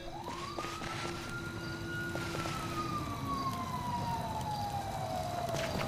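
A police car siren in the video game GTA V wails in long rising and falling sweeps, moderately distant over a low background rumble.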